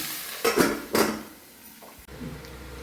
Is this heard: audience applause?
no